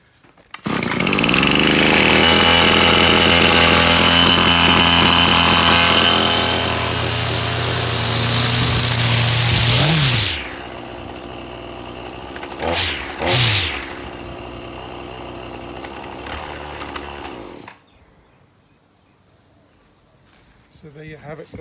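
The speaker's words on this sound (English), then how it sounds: "There's a method to starting a small engine" A weed trimmer's small two-stroke engine roars loud and close, running steadily at high revs for several seconds before throttling down, then a couple of short revs and an idle that cuts out into near silence.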